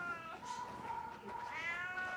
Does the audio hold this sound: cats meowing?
yes